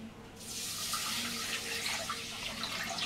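Water pours steadily into a cooking pot while rice milk is being made, a continuous splashing stream that starts suddenly and keeps going at a moderate level. No voices.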